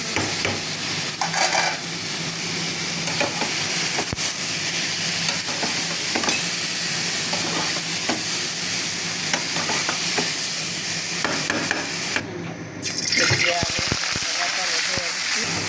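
Cauliflower frying in a pan with turmeric, panch phoron and meat masala, a loud continuous sizzle with scraping stirs throughout and a brief clatter near the end.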